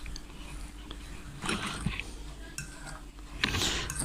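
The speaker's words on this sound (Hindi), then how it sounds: "अब इनको हम कर लेते हैं साथ मैश कर लेते हैं, फोक की मदद से मैश करते जाएं" Boiled potatoes mashed with a fork in a bowl while cooking an aloo naan filling with coriander and spices, soft quiet scraping and clinking of fork against dish in a few short bursts, close and faint.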